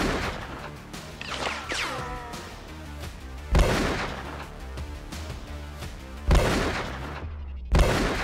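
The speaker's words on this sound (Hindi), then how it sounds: "घात लगाए शूटरों ने उन पर ताबड़तोड़ फायरिंग शुरू कर दी।" Three sharp, loud gunshot bangs from a shooting in Prayagraj, spaced several seconds apart and cutting through a bed of dramatic background music.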